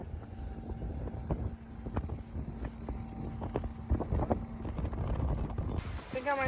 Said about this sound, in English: Night watch time, we're motoring, as you can no doubt hear.